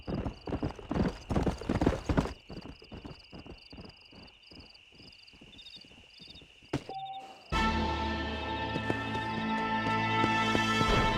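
Hooves of a stallion clip-clop in a steady, close rhythm in the Red Dead Redemption video game, with an occasional faint whinny, before giving way to a denser, sustained background wash.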